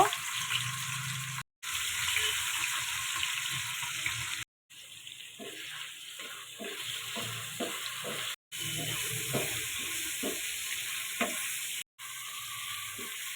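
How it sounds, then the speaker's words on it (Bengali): Paneer frying in a pan, a continuous crackling sizzle with soft scraping stirs and scattered pops, moderately quiet and close, cut by a few short gaps, no speech. "পনিরটা ভেজে নেব।"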